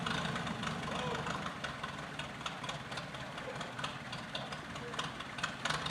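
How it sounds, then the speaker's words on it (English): A tractor and a bulldozer idle with a steady, rumbling, mid-to-low engine drone while rigged to pull a cable to bring down a tree outdoors. The drone stays continuous and fairly loud, with faint knocking throughout. "the tractor is going to pull the bulldozer is going to pull the cable"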